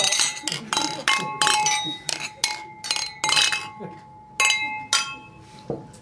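Beer glasses clink together in a toast, a rapid series of bright, ringing clinks from several glasses at once, with voices chatting underneath.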